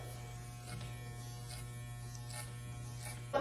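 An electric hair clipper hums steadily and quietly, close by, during a boy's haircut, with no talk.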